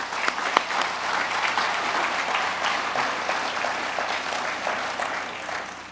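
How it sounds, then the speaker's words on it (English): An audience claps for a colleague at a business event, a steady, full round of applause lasting several seconds without pause before fading out at the end. "So I'd like to give Frank a big round of applause"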